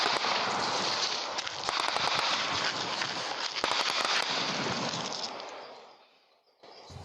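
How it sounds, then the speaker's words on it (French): Distant gunfire crackles from a village in central Benin during armed clashes, heard as scattered sharp pops under a constant outdoor hiss and chatter of birds, fading out near the end. "Au loin, des coups de feu tirés depuis son village de Banté."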